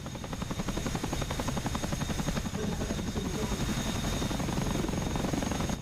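Helicopter rotors thump in a fast, steady beat over a constant engine whine while a Chinook or Apache lifts off in the DCS World flight simulator, loud and close throughout with no voices.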